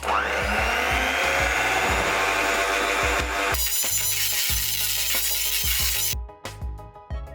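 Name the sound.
electric hand mixer mixing sticky rice flour batter at lowest speed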